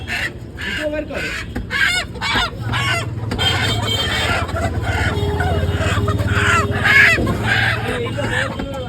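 Live chickens cluck and squawk at a busy market stall during an evening festival in Naihati, mixed with steady crowd chatter and nearby voices throughout.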